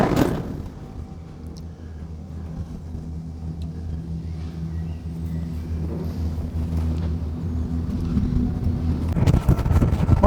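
Cable car descending the mountain at Rüdesheim, Germany, giving a steady low mechanical rumble with faint wind, growing louder and busier near the end, with no talk.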